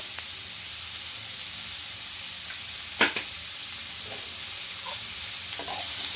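Chopped onion and shredded cabbage with salt fry in a pan, giving a steady close hiss and sizzle, with a few sharp clicks and scrapes as the mix is stirred.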